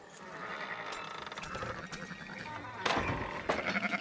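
Sheep bleating in the video game Red Dead Redemption 2, several overlapping calls from nearby livestock over a steady background, with a louder bleat toward the end.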